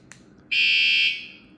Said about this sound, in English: So you have just a beep.